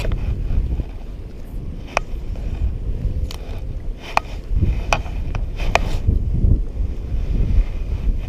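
Wind gusts buffet the microphone on a wet, windy lake shore at a fishing lake, a low rumbling roar with water lapping and a few sharp ticks and clicks throughout, no voices.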